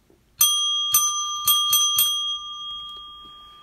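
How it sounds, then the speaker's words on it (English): A bicycle-style bell rung five times in quick succession, bright metallic rings with a sustained ringing tone that lingers and fades after the last strike, close and clear with no talk. "Let me get my bell ready here."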